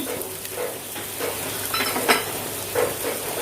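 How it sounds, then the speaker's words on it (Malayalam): Onions for fish biryani sauté in a pan with a steady, close sizzle and occasional stirring scrapes, with no speech. "നമ്മുടെ സവാള ഇപ്പോൾ ഏകദേശം നന്നായിട്ട് വഴണ്ടിയിട്ടുണ്ട്."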